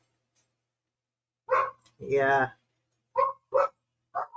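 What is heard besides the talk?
neighbor's dog barking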